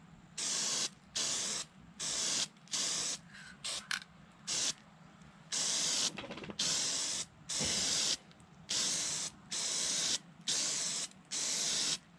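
Red paint spray-painted onto a scale model Freewing MiG-29 missile set, a series of loud, close hissing bursts of about one second each, separated by short pauses, with faint mechanical clicks between them.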